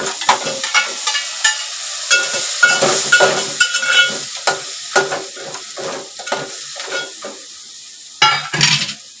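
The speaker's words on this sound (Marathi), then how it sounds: "आणि हे मी आता त्याचे खेकडे टाकते" Crabs drop into a hot pan of Malvani masala with green masala, followed by steady sizzling and frying hiss broken by repeated stirring scrapes and clatters of a spoon against the pan, close and fairly loud.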